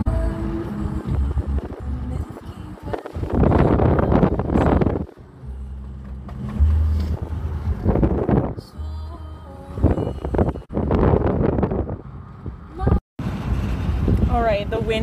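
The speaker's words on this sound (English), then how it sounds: "Wind just got super intense and it's legit making me like a bobblehead, like pushing my head" Strong wind gusting over the Badlands ridges buffets the microphone in heavy rumbling bursts throughout, while a person talks over it.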